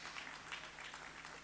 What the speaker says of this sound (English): Please a round of applause for our chairman